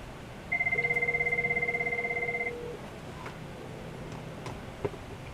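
An IP desk phone on a monitored line rings during a test call between two office rooms, giving one steady electronic ring burst of about two seconds with a rapid trilling pulse, followed by quiet room tone and a faint click.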